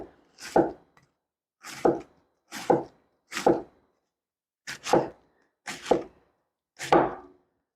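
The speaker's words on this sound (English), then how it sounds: "And then I will start to finely chop this." Knife finely chopping cabbage on a board for sauerkraut, seven separate bursts of quick crunchy cuts spaced about a second apart, close and clear with silence between.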